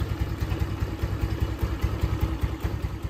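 Bored-up Yamaha Mio motorcycle engine idles close by, settling in with a steady, slightly uneven putter and light mechanical clatter.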